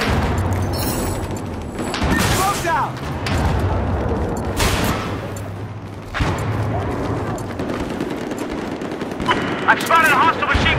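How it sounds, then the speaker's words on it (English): Machine gun fire in the Battlefield 4 video game on the Operation Locker map: bursts of rapid shots and booms recur through a busy battle soundscape, with players talking over the action. "I've spotted a hostile machine gunner due west of your position."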